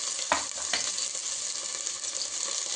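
Turmeric and biryani masala fry in hot oil for an egg biryani, a steady close sizzle with a few sharp stirring scrapes near the start, no voices.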